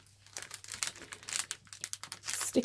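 Close crinkling and rustling of a cellophane gift bag as tape backing is peeled off, a busy stream of crackles and small tears with a sharper crinkle burst near the end.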